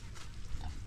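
A mother pig with newborn piglets on a provincial farm gives short, soft oinks and grunts close by, brief and quiet, with background noise around.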